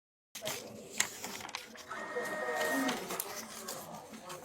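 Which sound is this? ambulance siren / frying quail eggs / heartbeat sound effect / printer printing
printer printing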